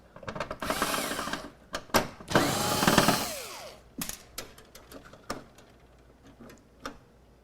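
A power tool driving out screws from a Dell XPS laptop board, with loud whirring bursts of a second or so, then a string of short sharp clicks and brief buzzes, close and with no voices.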